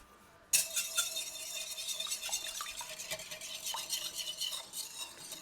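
Milk and melted butter stirred into chocolate cake batter in a bowl, a close, busy run of scraping and clinking spoon strokes starting abruptly and continuing steadily with no speech.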